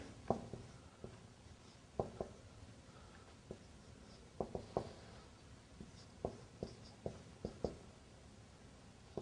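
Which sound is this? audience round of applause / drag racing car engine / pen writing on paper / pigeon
pen writing on paper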